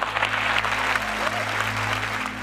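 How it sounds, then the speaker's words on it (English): A large audience at an Apple event claps for the company's executive team, a short burst of steady, dense applause lasting a couple of seconds over a low, constant hum from the room's sound system. "Let's give them a round of applause."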